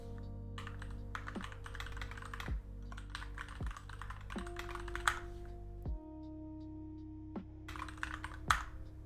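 Steady keyboard typing in quick bursts of clicks, close to the mic, with short pauses between runs and a low background hum throughout.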